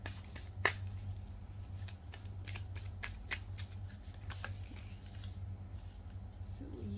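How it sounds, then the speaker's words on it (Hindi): Tarot cards are drawn and handled close by: quiet, sporadic flicks, snaps and soft shuffling rustles over a faint steady hum. "ये पास्ट के लिए मैंने तीन कार्ड्स निकाले हैं"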